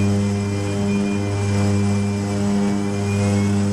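Inside an aircraft cockpit in flight, the engine and propeller make a constant, loud droning hum with a steady pitch and no pauses.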